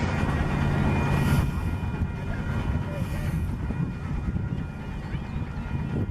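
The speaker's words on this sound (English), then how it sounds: "It's a steam engine running" A 15-inch scale steam train passes close by at a railroad park in Scottsdale, Arizona, a steady broadband rumble with wind buffeting that swells in the first seconds and then stays level.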